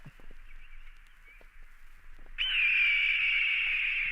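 A recorded red-tailed hawk lets out a long, hoarse, drawn-out scream that rises sharply in loudness partway through and holds steady to the end, heard alone.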